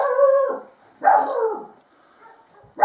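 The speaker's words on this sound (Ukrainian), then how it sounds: "Випустив собаку на двір, бо гавкає." A dog barks loudly and close by in separate bursts, two strong barks with a trailing howl-like tone, then a third starting at the end, in a yard with no speech.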